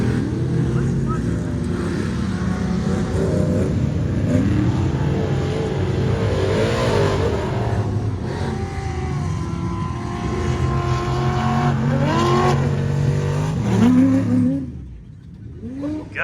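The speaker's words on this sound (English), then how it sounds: "God, that truck sounds good." An off-road race truck revs its big engine at a dirt bike track and dunes event, a loud, sustained roar that rises and falls with throttle, a burst near the end then a drop, with voices talking over it.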